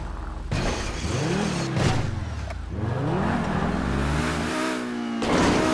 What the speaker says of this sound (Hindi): इतनी फास्ट हैं ये गाड़ियाँ, अबे ये तो कंट्रोल भी नहीं होंगी भाई